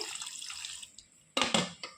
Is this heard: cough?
no